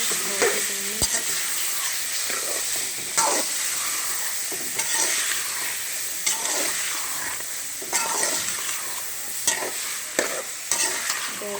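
Peas and potatoes stir-frying for sabzi pulao: a steady, bright sizzle runs throughout, with repeated scraping stirs of a spoon against the pan at fairly regular intervals.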